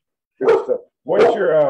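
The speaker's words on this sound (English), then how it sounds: "excuse the dog." A dog barks twice close by in a home during a live chat, a short bark followed by a longer, fuller bark, with a person laughing and speaking between and over it.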